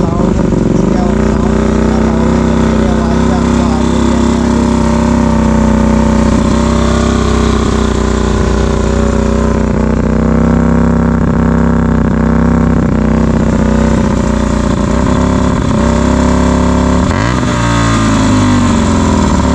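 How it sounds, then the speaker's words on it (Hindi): A Hyosung GTR motorcycle engine runs loud and close for the whole stretch, a steady deep drone with a sharp rev rise near the end. Talk may sit underneath. "तो अब आते हैं हायोसंग पर, एक बार इसका भी आपको साउंड सुनाते हैं।"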